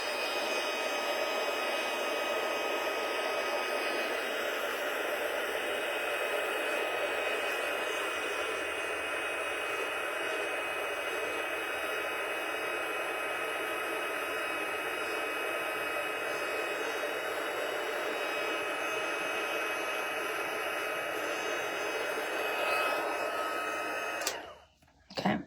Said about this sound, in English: I'm just going to use my heat tool to dry it a little bit and set the ink